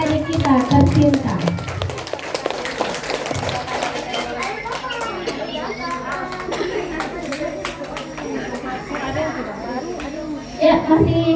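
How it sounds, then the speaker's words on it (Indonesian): Audience at a kindergarten graduation ceremony applauding for the children, a steady patter of clapping under chatter and children's voices, with a louder burst near the start and another at the end. "Berikan tepuk tangan yang meriah dulu untuk adik-adik kita tercinta."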